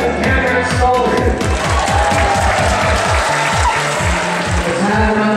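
Crowd at the 2013 Rubik's Cube World Championship finals applauding 2x2x2 speed solve champions, steady clapping and cheering under rhythmic low music and a speaking voice.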